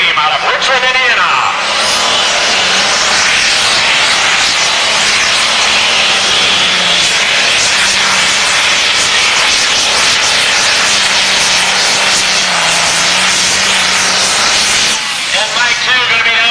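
A John Deere pulling tractor, the Green Extreme from Richland, Indiana, roars at a truck and tractor pull, its engine screaming loud and continuous for about fifteen seconds as it powers down the track, with an announcer talking over it.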